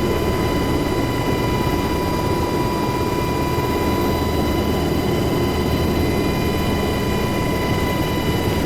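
A UH-60 Black Hawk helicopter in the flight simulator DCS World, Syria map, produces a steady, loud, continuous rotor and turbine roar with a constant whine throughout, no talk.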